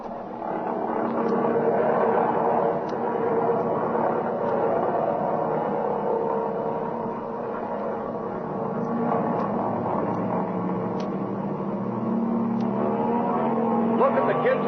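A plane takes off from a runway in an old radio drama: a steady, loud engine roar with a rising drone carries through the whole stretch, no voices over it.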